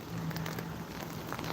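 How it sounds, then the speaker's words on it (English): Rain pattering on an umbrella during a rainy afternoon walk, a dense continuous hiss of drops with low rumble underneath, close and steady throughout. "do you like the sound of the rain"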